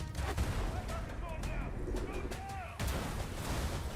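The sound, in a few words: gunfire in a first-person shooter video game trailer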